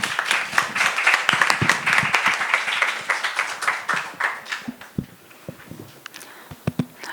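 Audience clapping at a lecture on freedom of expression, misinformation and hate speech, brisk and uneven, louder at first and then thinning into scattered individual claps toward the end.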